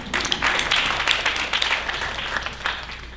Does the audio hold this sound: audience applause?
yes